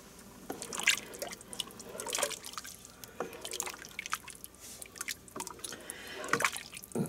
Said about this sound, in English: now let's stir this up